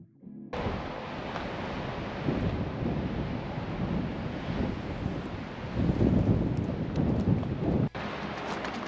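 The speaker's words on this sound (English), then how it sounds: "it's quite windy" Strong gusts of a high wind sweep an RV campground, a loud broadband rumble battering the microphone and swelling and easing throughout, no voices.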